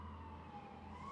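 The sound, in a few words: ambulance siren passing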